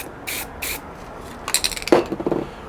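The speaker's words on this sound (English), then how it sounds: "I'm spraying it onto the side here" Two short hissing bursts of a spray paint can, followed by light clinks and rattles of the can being handled.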